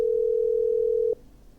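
A steady telephone dial tone from the video game Killer Frequency holds for about a second, clear and fairly loud, then cuts off abruptly, leaving faint background hiss.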